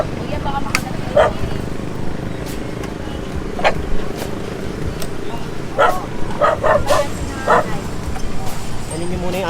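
A dog barks and yips in short bursts during a street clearing operation, several quick barks clustered near the end, over steady background noise and some voices.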